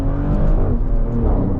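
A 2025 Maserati GranCabrio Trofeo convertible with the Nettuno V6 and a ZF transmission drives on a road, giving a steady, loud, close engine drone with low rumble and no clear gear change.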